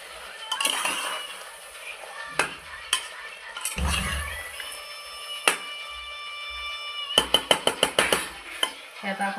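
Mutton being stirred and mixed with masala in a metal pot, irregular scraping and clanking of a ladle against the pot with a quick run of ringing knocks near the end, with faint sizzling underneath.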